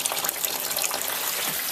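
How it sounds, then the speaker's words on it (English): Sweet wort drains from the grain during sparging for a homebrewed pale real ale, splashing as a steady, close gush of liquid into a container with no talk over it. "this is the sweet wort draining into the container here"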